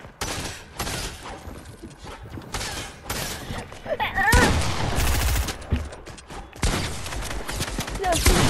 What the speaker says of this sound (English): I couldn't even see you, I was just shooting.